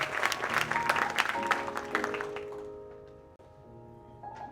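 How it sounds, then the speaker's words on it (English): Clapping from an audience at a staff preservice event, a lively burst of hands that fades out after about two and a half seconds into a quieter room with a faint tonal hum. "Come on, give a round of applause."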